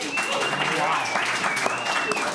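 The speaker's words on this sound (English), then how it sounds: "Fire Gary gets applause here." Audience applause at a Bitcoin mining gathering, dense sustained clapping mixed with crowd voices and a whistle, filling the whole short stretch.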